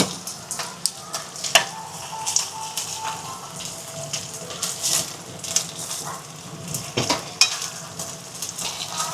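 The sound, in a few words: food sizzling while cooking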